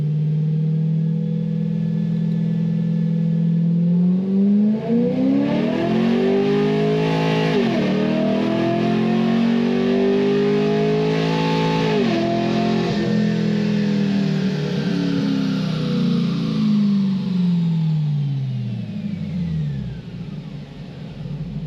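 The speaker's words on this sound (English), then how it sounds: "I'll do a 2, 3, 4. This thing has long ass gears in it." A base-model automatic car with long tube headers revs up and pulls through second, third and fourth gears, pitch climbing then dropping at each shift, loud and close, settling lower as it eases off.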